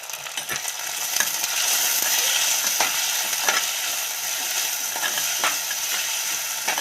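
Onions frying with salt in a pan for a Tamil fish curry, giving a loud continuous sizzle with occasional spoon scrapes and taps as they are stirred, close and without voices.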